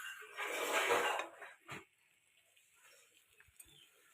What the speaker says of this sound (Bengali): 5 মিনিট আবার সাঁতলিয়ে নেব আমি